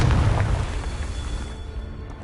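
A Confringo blasting spell in Hogwarts Legacy bursts as a loud, low boom at the start, then rumbles and fades away over a couple of seconds.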